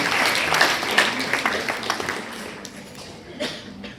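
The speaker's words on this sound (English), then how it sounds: "One round of big applause to all the teachers at Meenambakkam" Applause from an audience honouring teachers at a Lions Club of Meenambakkam event, a burst of clapping that swells early and then thins and fades over a few seconds, with a few scattered claps lingering.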